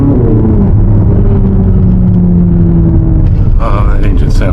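A 2025 Corvette Z06 engine pulls hard from inside the cabin, a loud, rising growl that climbs steadily before easing as brief voices come in near the end.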